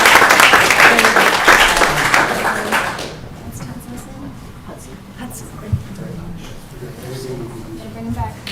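Applause from a city council meeting audience, loud and dense for the first three seconds, then cutting off into a quieter room with scattered voices and light noises.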